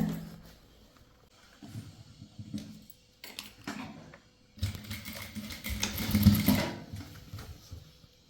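An electric sewing machine stitches chudithar fabric in bursts, each run a rapid mechanical whirr that starts, pauses and restarts, building to a longer, louder burst near the end, close by and without talk.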